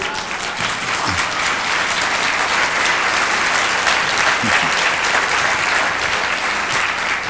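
Audience applause at a motivational talk, a full crowd clapping loudly and evenly for about seven seconds, with occasional faint voices mixed in.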